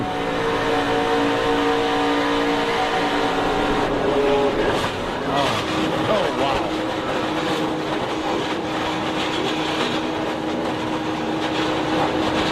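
NASCAR trucks race hard on the final lap with a loud, steady roar of engines throughout, with crash noise blended into the continuous din and no clear talk.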